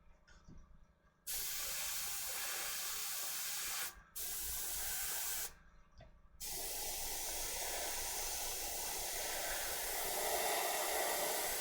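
An airbrush sprays ink in steady hissing bursts with two short pauses where the flow stops, then a long continuous spray during painting of a miniature model.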